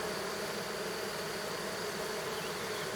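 A modest honeybee swarm hums at a hive in a woodland apiary, a continuous, even buzz of many bees heard close up and fairly quiet, with no talking.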